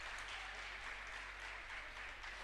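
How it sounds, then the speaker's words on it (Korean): A crowd applauds at a university basketball opener between Yonsei and Dongguk, a dense, even wash of clapping heard faintly and continuously throughout. "박수 소리가 정말 대단하네요."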